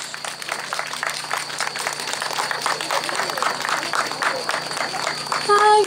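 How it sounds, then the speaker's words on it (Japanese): Audience at an evening moon-viewing event in Naka city applauds to welcome a performer, a steady wash of dense clapping that holds throughout and swells slightly near the end. "大きな拍手でお迎えください。"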